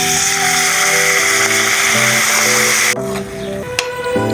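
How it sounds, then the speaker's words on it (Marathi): Water poured into a hot pan of cashews and melon seeds gives a loud, steady hiss that cuts off abruptly near the three-second mark, leaving a quieter tonal hum with a brief clink. "तर आपण त्याच्यात टाकूया थोडंसं पाणी."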